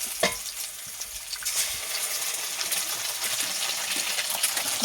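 Kalla fried in a pan with egg, a continuous close sizzle and crackle that stays steady throughout with occasional faint stirring clicks.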